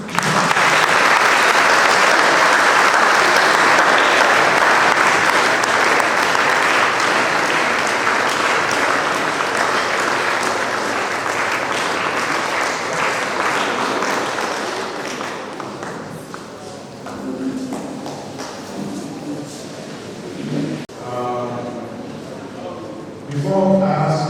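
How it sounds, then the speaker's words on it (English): Conference audience applauding loudly and steadily for about fifteen seconds after a talk at a law and society conference, then the clapping fades and a voice speaks over the last scattered claps. "give another round of applause"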